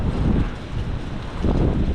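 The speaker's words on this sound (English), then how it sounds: "it is pretty windy out here right now" A windstorm in the Ohio Valley blows hard outdoors, loud gusty rumbling battering the microphone in continuous waves with no voices.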